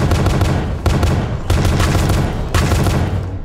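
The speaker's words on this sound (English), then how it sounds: "every time I fire a gun" Loud, continuous automatic gunfire in a pony factory horror video game, dense overlapping bursts fired close up with brief breaks between volleys.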